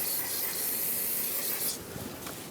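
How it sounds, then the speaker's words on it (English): A steady aerosol spray of brake parts cleaner hisses continuously at close range around bolt holes on a Dodge Ram 5.7L V8 engine, with a brief change in tone near the end. "And spray around it."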